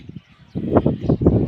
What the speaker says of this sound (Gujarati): આજે આપણે કબૂતર ખરીદી નાખ્યા છે